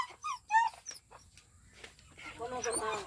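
A dog whimpers and yips in short, high, squeaky bursts, close and fairly quiet, with a person speaking softly alongside.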